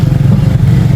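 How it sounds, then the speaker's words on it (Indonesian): Motorcycle engines run as riders gather for a group ride in Tulungagung, giving a loud, close, low idling rumble with a steady throb that fills the whole brief moment. "Mesin-mesin motor mulai dinyalakan"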